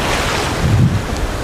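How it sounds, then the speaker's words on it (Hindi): Sea waves wash onto a beach in a steady broadband roar, loud and close, with heavy wind buffeting the microphone and a surge near the middle. "ये आ रही हैं लहरें, समुद्र की लहरें।"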